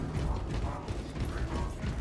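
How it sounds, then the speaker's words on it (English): Weapon magazine reload in Warhammer 40000: Space Marine 2, a dense burst of metallic clicks and clunks heard up close over a low rumbling game backdrop, with no talking. "Magazine out, magazine in."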